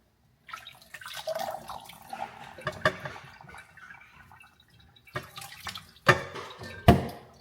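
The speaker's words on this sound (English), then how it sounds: "Now I'm gonna drain all the water." Water draining from a kitchen sink at home, with irregular gurgles, drips and splashes that build toward a few sharper gulps near the end, heard up close with no talking.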